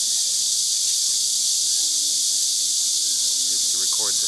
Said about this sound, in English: is to record the sounds of the cicadas.